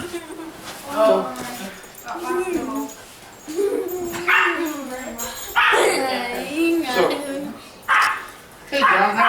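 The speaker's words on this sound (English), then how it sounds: "that's my daughter trimming a dog's nails." A dog squeals and yips in the background while its nails are trimmed, several shrill bursts spread across the clip under a person talking close by.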